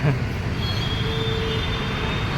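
A local train rumbles past on the tracks at Nagpur Sitabuldi station, a steady low roar with a faint high whine, heard from nearby without speech.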